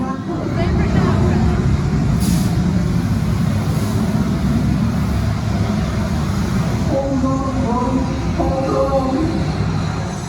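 Thrill-O-Matic dark ride at Blackpool Pleasure Beach in motion, a steady loud rumble of the ride car running on its track throughout, with brief higher tones from the ride's effects near the end.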